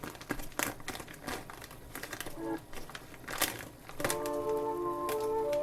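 A plastic bag of Bamnut instant noodles being torn open, with a run of close, sharp crinkles and crackles over several seconds, then a steady hum with a faint tone underneath, no talking.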